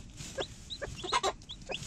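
Hens clucking inside a chicken coop at night, a mother hen among them, short soft clucks and murmurs in an irregular run, close and fairly quiet.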